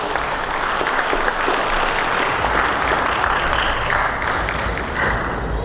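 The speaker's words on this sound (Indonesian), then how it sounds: "Beri tepuk tangan terbaik buat mereka, Bapak Ibu." Sustained, dense applause from a congregation honours a newly blessed couple at a church wedding ceremony, steady and full for the whole stretch with no voices rising above it.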